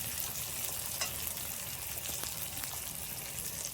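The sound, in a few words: coconut pieces frying with spices for khichuri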